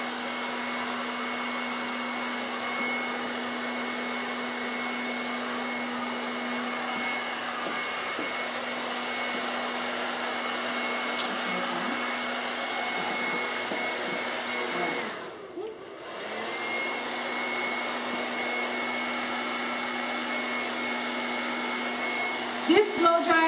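A Paul Mitchell Ion Dry blow dryer fitted with a diffuser runs in a steady, close whooshing drone with a constant motor hum, briefly dipping once midway.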